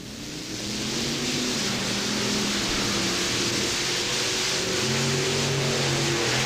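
Monster trucks Mopar Magic and Auto Value King Crunch racing at a TNT event in Bowling Green, Ohio, their engines a distant, steady roar with shifting pitch under a crowd-like wash of noise.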